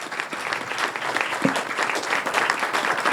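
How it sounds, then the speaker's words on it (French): A room full of people clapping at an agricultural energy debate, loud and sustained from start to finish, a dense, even wash of applause. "Je crois qu'on peut applaudir nos invités."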